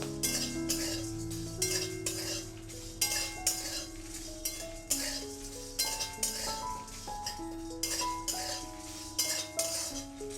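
Roasted sandwich masala spice mix is scraped from a metal wok into a bowl, with repeated clinking and scraping strokes of a utensil in an uneven rhythm, close and fairly quiet over soft background music.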